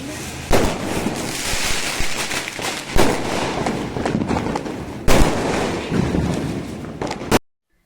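Diwali fireworks and firecrackers going off on a rooftop: continuous loud crackling with sharp bangs, heavy bursts at intervals, ending in sudden silence.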